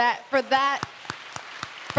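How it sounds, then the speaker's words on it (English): At a plenary session of the All-In Conference 2022, a voice speaks briefly, then a few sparse, scattered hand claps follow at irregular intervals. The claps are thin and isolated rather than full applause. "one more round of applause, please"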